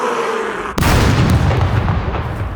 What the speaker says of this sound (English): nothing beats the rocket launcher.